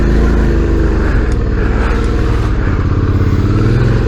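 A dual-sport motorcycle on Motoz Tractionator Dual Venture tyres rides off-road on dried-up ground with the rear tyre spinning, giving a loud, steady engine drone with a rough clattering edge throughout.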